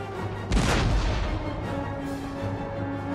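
Artillery booms in the video game Empire: Total War, an Austria campaign battle, with a heavy blast around half a second in followed by a rumbling roll and continuous battlefield noise, no talk.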